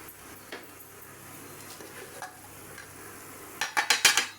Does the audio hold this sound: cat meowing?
no